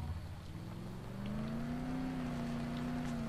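A car drives through a tropical island setting in the video game Dead Island Riptide, giving a steady engine drone that rises slightly in pitch as it accelerates, moderately quiet and without speech.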